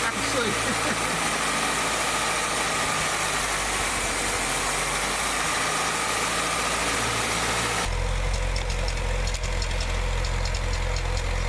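Engine of a 1967 International Scout 800 running with a slight misfire, a steady close idle drone with a roughness throughout and an abrupt change partway through.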